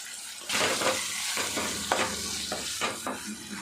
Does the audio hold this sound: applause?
no